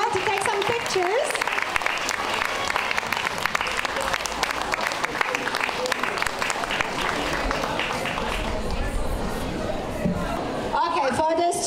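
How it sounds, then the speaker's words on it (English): Sustained, dense applause from an audience after a junior and senior high school performance of Macbeth, steady and loud for the whole stretch, with crowd chatter mixed in and a voice near the end. "A big applause"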